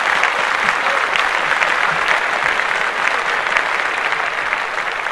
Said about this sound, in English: Let's clap that shit.